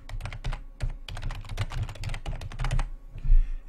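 Typing an app name on a computer keyboard, a close, quick run of clicking keystrokes in short bursts with brief pauses.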